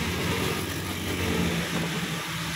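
Suzuki Grand Vitara engine revving after a tune-up, a steady mid-pitched roar held close and loud throughout with slight surges, no voices over it.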